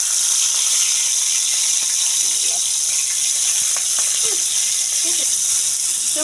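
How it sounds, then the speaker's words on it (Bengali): Rohu fish pieces go into hot oil in a frying pan, raising a loud, steady broadband sizzle with faint crackles and pops, close by, with no talking. "আমার তেলটা গরম হয়ে গেছে, এখন আস্তে আস্তে আমি মাছগুলোকে দিয়ে দেব।"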